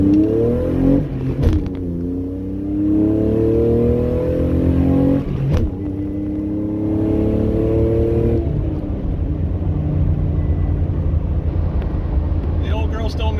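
A Toyota Tacoma X-Runner pickup with a manual clutch accelerates hard on the road. Its engine note climbs loudly, drops briefly at two gear changes and then rises again, heard up close from inside the truck.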